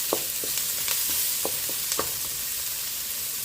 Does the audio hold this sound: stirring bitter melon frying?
yes